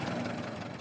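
Ford Model T engine idling after the revs are reduced, a steady low rumbling drone with a faint rhythmic knock, close and continuous with no talk.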